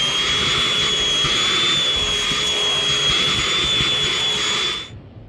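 A vacuum cleaner runs steadily and loud inside a stripped Fox-body Mustang with the dash out, its whine holding a constant pitch over broadband rushing air before cutting off sharply near the end.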